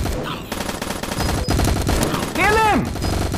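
Rapid gunfire bursts in a video game crackle loudly against a dense game soundscape, with a rising and falling warbling tone near the end and a person speaking over the action.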